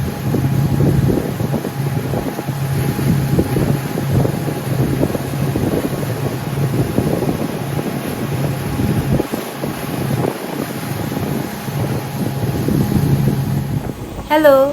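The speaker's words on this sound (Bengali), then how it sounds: "প্রচণ্ড বাতাস ছিল।" Strong wind buffets the microphone on a boat crossing a lake in Grand Teton National Park, a loud continuous rushing roar with the boat's engine hum underneath throughout.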